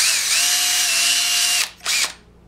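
A power drill widening holes on a homemade wine must mixer and degasser whines steadily and close, drops briefly, then gives one more short burst before stopping.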